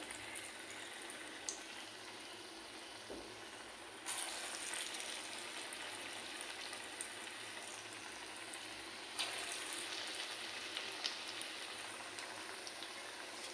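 Moong dal bhaji frying in a shallow pool of oil, a steady soft crackling sizzle that runs the whole time with no talk, growing a little louder and denser partway through.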